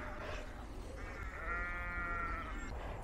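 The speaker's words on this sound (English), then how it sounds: "Obviously here the sheep and the lambs in the meadows." Sheep and lambs bleat in a meadow on the north Exmoor countryside, a couple of drawn-out nasal calls rising over steady outdoor background noise, moderately close.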